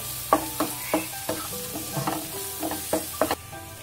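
Chili and spice powders frying and being stirred in a pan for bhindi masala, crisp sizzling broken by a series of sharp scraping stirs, close and clear with no talking.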